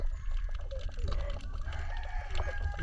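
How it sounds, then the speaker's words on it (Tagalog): Chickens cluck and crow close by, a busy mix of calls over low rumbling background noise. "Pasaway ang mga manok na ito."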